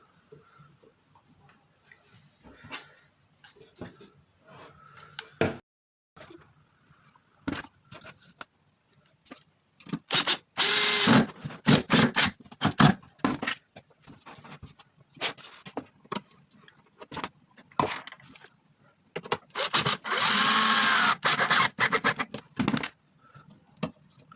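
Screws are driven into a cheap DIY laser engraver enclosure: two loud, sustained whirring bursts stand out against sparse close ticks and clicks of handling parts, with long quiet stretches between them.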